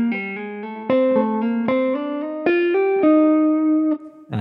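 An electric guitar plays a legato lick through effects, with smooth hammered and pulled notes stepping up and down in quick succession, sustained with reverb, played alone and close.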